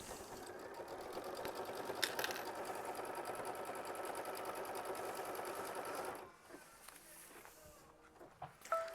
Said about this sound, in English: Now we're going to go ahead and sew down machine stitch step 13, which is going to tack it down.